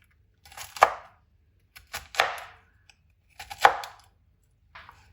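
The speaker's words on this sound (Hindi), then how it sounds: "अब इनको ऐसे बराबर पे रख के इनकी कटिंग कर लेंगे" A knife chops okra on a cutting board in three crisp, separate strokes spaced about a second apart, then a fainter fourth cut, with quiet pauses between and no talking.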